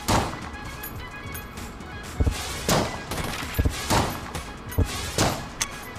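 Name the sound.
new gun firing in the video game Enter the Gungeon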